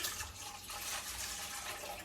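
Water being poured into a bowl for sourdough bread dough, 300 grams measured out, a faint continuous splashing pour that runs steadily for a couple of seconds with no talk over it.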